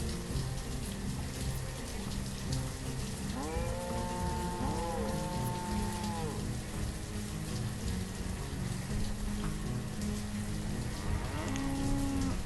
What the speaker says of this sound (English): Here come the cows.